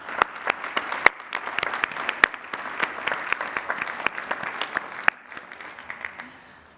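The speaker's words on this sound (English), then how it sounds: "Please recognize the Doctors of Philosophy with hearty congratulations and applause." Scattered applause from a university commencement audience honoring new Doctors of Philosophy, sharp individual claps mixed with steady clapping, moderately near and fading slightly toward the end.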